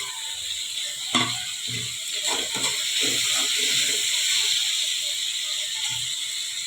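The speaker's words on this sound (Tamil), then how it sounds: "நல்லா வதக்கி விட்டுக்கோங்க, அப்போ தான் நல்லா ஈவனாக வேகும்" Tomatoes sautéing in hot oil in a pan for tomato chutney, giving a steady close sizzle and hiss with scattered clicks and scrapes from stirring.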